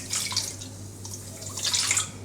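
Water poured into a medium-sized bowl for sourdough pita dough, a soft close splash and trickle with two brighter bursts at the start and end, alone without talk.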